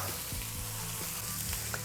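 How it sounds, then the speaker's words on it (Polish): Entrecote beef steak sizzling and frying in a hot pan, a close, continuous crackling hiss with a few soft stirring knocks, no one speaking. "Dobra, mięso jest obsmażone."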